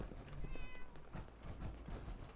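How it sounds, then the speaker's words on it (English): A cat meows a few times inside the game Fallout 4, fairly close and clear, over a low, busy game background. "Is there a cat?"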